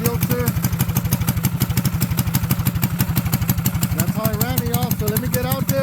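A mini bike's small single-cylinder engine with a new clutch, gas tank and governor mod idles loud and close, a steady rapid thumping putter throughout with a faint voice in the background.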